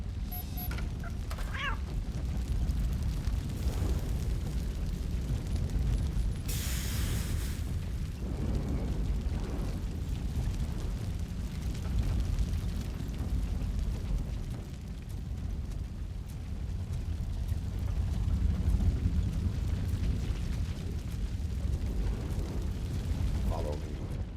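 A fire blocking the way in Robocop: Rogue City burns as a steady, close, low roar that holds throughout, broken by a few sharper bursts and crackling pops near the start.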